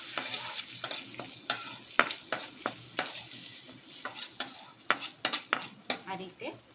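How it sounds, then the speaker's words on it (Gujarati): A bay leaf, a piece of cinnamon and four or five cloves sautéing in hot butter for tomato soup, a soft steady sizzle punctuated by frequent sharp clicks and scrapes of a stirring spoon against the pan. "જ્યારે બટર ગરમ થઈ જાય ત્યારબાદ એમાં એક તમાલપત્ર એડ કરીશું, એક તજનો ટુકડો એડ કરીશું અને 4 થી 5 લવિંગ એડ કરીશું."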